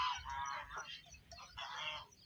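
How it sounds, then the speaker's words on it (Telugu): Loud honking duck calls in a dense, overlapping flock, several birds calling at once with a brief lull midway before another burst. "బాతులు అయితే అక్కడ ఉన్నాయి"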